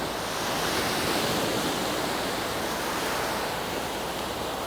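Surf washes steadily onto a clean white sand beach on Koh Samet, Thailand, a continuous broadband rush of breaking waves with some wind, unbroken and fairly close, with no voices.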